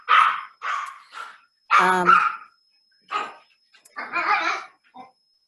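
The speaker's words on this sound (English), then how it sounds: "now my husband has to look after my geriatric dog" An elderly dog barks and yips in short, separate bursts with gaps between them. Some calls sound whiny, close-up in a quiet room at home.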